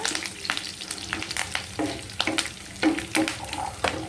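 Curry leaves and dried red chillies frying in hot oil, a steady crackling sizzle punctuated by sharp spatula scrapes and stirring knocks against the pan.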